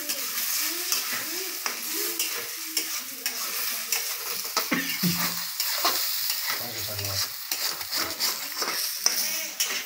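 Egg bhurji frying in a pan while being stirred, a continuous close sizzle with repeated scraping and clattering of the spatula against the pan throughout, no talk.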